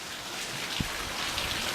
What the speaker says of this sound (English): Do you like that rain?